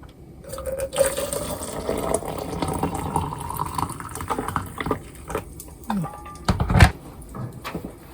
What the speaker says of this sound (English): pour this water in here